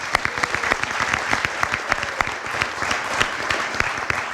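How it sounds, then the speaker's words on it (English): Applause at a school spring sports awards event honoring a student golfer, a room of hands clapping with distinct individual claps audible, steady and fairly close throughout. "how about a big round of applause for Levi Gatto?"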